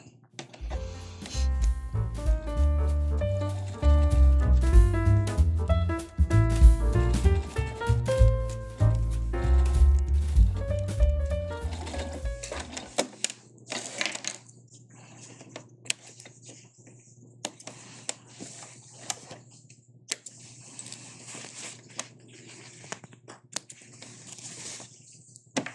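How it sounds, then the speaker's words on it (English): A sewing machine stitches around a rectangle to set a zippered welt pocket, running in a loud, steady stretch for about thirteen seconds, then falling to softer intermittent clicks and handling sounds. "Now we're gonna sew."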